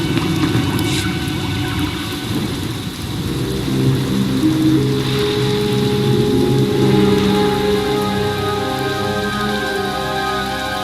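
Steady rain pours onto surfaces while low thunder rumbles underneath, a continuous storm with engine-like droning in the background.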